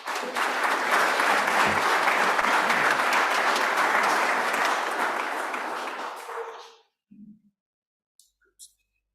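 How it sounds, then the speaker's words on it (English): An audience at a climate justice workshop applauds after a presentation, a dense, steady wave of clapping that tapers off and stops after about seven seconds, followed by a few faint stray sounds. "I think Dr. Denya deserves a better clap"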